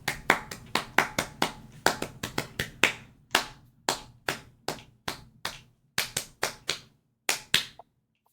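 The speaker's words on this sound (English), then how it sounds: "Let's clap it up for him" Sparse, uneven clapping from a small audience applauding a man in a box at a basketball-themed show, each sharp clap distinct and close, tapering in a loose irregular rhythm over several seconds.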